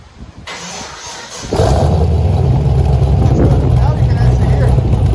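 A cammed Pontiac GTO with a 6.0L V8 and SLP Loudmouth dual exhaust fires up after a brief quiet moment, then settles into a loud, steady, lumpy idle rumble that continues to the end, with a voice talking faintly beneath it.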